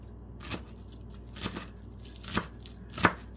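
Knife chopping on a cutting board while preparing soy sauce tofu, a few separate chops spaced out over a few seconds with one sharper hit near the end, fairly faint and close.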